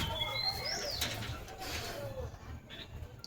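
Pigeons kept in an enclosure coo and call softly over a steady low background rumble, with a few brief bird chirps and rustles scattered through.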